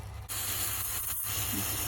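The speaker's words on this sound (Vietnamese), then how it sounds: "Nước nó chảy xuống với cái nồi nghe xèo xèo." Condensation drips from a lid onto a hot, dry pot used to bake sponge cake on a gas stove, giving a steady close sizzling hiss that starts abruptly and carries on alone.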